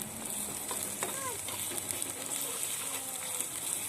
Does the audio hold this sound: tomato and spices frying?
yes